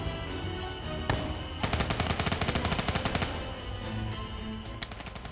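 Shotgun fire in Black Ops 3 on Realistic difficulty comes as dense, rapid gunfire under a constant busy battle din. A sharp shot lands near 1 second and a fast burst runs from about 1.6 to 3.2 seconds.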